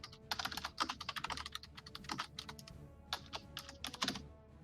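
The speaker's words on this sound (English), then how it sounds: "Yeah, there is typing happening." Quick irregular bursts of typing on a computer keyboard, key clicks in clusters with short pauses, faint and alone without talk.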